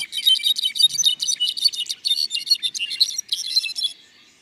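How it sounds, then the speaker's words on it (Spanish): A brown-backed solitaire sings in a Mexican forest in Oaxaca, a rapid tumbling stream of high, clear, fluting notes. The song runs unbroken for about four seconds, close and alone, then stops. "escuchen eso, es un clarín jilguero cantando una melodía que llena los bosques mexicanos"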